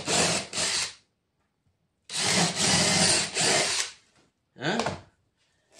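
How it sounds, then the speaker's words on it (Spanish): A power drill bores small holes in each corner of a pencil-marked outline for an electrical box in a SIP wall panel, heard as two loud whirring bursts separated by silence, then a shorter burst. "Hago unos agujeritos en cada esquina con un taladro."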